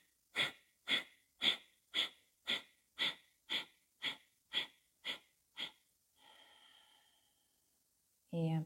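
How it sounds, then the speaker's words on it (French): Short, forceful puffs of breath pushed out from the lower belly during a breathing exercise: about ten close, evenly spaced bursts in a steady rhythm, then a softer, longer exhale and a brief loud sound at the very end. "sur l'expire, vous allez faire des petits soufflets au niveau du bas-ventre"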